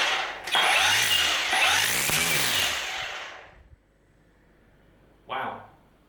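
An EGO cordless electric gardening tool spins up briefly with a close whirring whine that rises and falls for about three seconds, then a short second burst after a pause.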